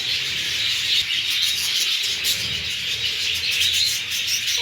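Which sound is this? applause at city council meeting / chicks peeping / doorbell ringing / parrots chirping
parrots chirping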